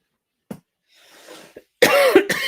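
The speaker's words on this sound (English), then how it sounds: "Sorry for the coughing." A few short human coughs, a faint single one first, then a louder cluster of rough bursts close to the microphone, with quiet gaps between.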